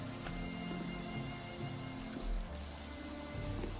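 Pressure washer spraying water in the PowerWash Simulator 2 video game, a steady close hiss of spray running continuously with small mechanical clicks and tonal game sounds mixed in.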